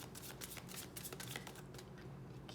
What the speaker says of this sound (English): Last shuffle, then I take from